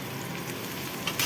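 Onions fry in a hot pan with a steady, close sizzle that keeps going without a break and no voices over it.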